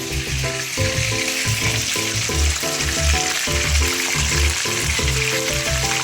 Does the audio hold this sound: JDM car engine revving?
no